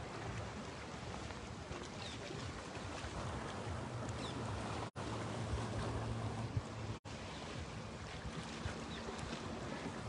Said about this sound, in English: I guess that's the waves from the boat, or from the boats crashing in here.